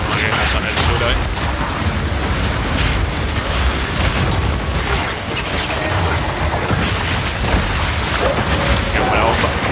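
Bomb explosions during combat in the video game Path of Exile 2, a dense continuous barrage of loud booms and bursts layered with chaotic effects, with speech mixed in.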